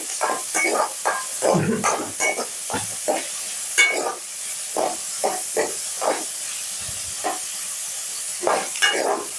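Curry leaves, garlic and green chillies frying in a pan, a steady loud sizzle and hiss broken by repeated stirring scrapes, close up with no talking.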